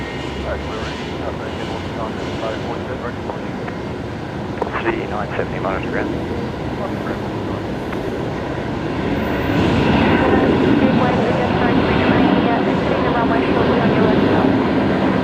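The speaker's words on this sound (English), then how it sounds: "this is the final narrow body before we get the Singapore and then the Qatar" A narrow-body airliner arriving at Brisbane Airport, a broad steady engine roar that holds for a while and then swells louder and nearer toward the end, with no voices over it.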